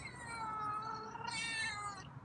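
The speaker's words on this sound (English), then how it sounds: "Wow, that was a raspy meow." A single drawn-out, raspy meow from a feral cat, close and fairly quiet, rising in pitch partway through.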